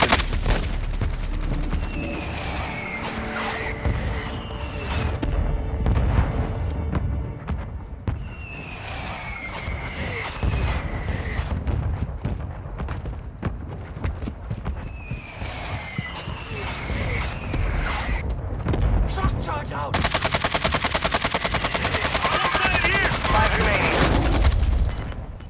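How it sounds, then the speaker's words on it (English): Gunfire crackles in bursts through a Call of Duty Warzone match, with mortar strikes thumping in and a dense, loud barrage toward the end, while game voice announcements sound over the action. "Friendly mortar strike inbound."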